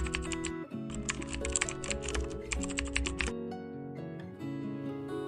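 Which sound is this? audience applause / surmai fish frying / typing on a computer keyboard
typing on a computer keyboard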